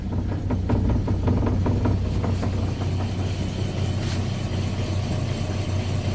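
Steady engine running in a 1993 Ford XG with automatic transmission dropped into first gear, a close, even mid-low drone with a few rhythmic ticks early on, no talking.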